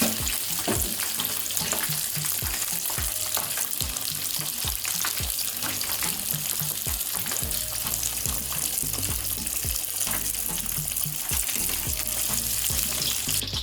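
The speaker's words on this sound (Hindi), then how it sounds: "ओके जी, फ़िश हो गई है फ्राई" Fish fries in hot oil in a pan, Lahori style, a loud continuous sizzle with crackling pops and repeated soft knocks of a utensil stirring or turning the pieces.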